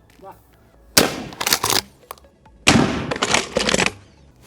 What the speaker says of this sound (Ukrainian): Стріляю ще раз, травматичні патрони, самозахист, куля